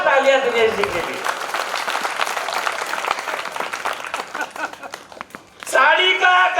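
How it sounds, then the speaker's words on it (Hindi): Audience applause at a Hindi poetry recital, a lively burst of many people clapping for several seconds, with a voice speaking over the start and again at the end. "एक बार जोरदार तालियां"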